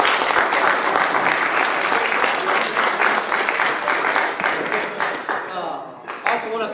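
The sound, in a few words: audience applause at wrestling banquet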